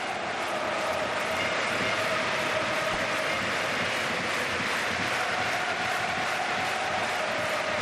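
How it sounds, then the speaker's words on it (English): Dense, continuous roar of a capacity football stadium crowd at a Germany versus Brazil match, loud and sustained with no breaks in the wall of noise. "just listen to the appreciation from the capacity crowd"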